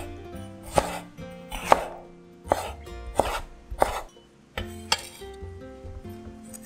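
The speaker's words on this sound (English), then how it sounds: "Slice up some pickled mustard greens or giam thai" Knife chopping through pickled mustard greens (giam thai) on a cutting board, six or seven distinct crisp thuds at an uneven, unhurried pace, close and clear with no talking.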